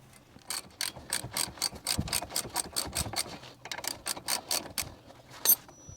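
A ratchet wrench clicks in rapid bursts while cracking loose the 18mm slide bolt and 12mm retaining bolt on a Holden Commodore VT–VZ front brake caliper, close and clear with no talk.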